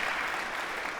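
Audience applause at a political interview event, a steady, dense wash of many hands clapping at full strength for a brief moment.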